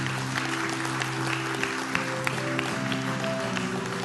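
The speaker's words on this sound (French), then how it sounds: "On l'applaudit ensemble, ça prend du courage" Church congregation clapping together during a worship service, a soft, distant patter of hands under a sustained organ or keyboard chord.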